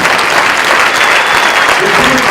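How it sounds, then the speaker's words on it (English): Loud, thick applause from an audience at a Pueblo High School Warrior Foundation Hall of Fame induction, many hands clapping together in a sustained roar from start to finish. "Please give him a good round of applause."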